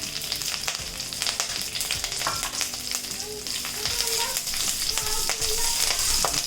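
Curry leaves and green chillies fry in hot oil for a prawn fry, a loud, continuous crackling sizzle with spatters and occasional stirring, heard up close with no talking.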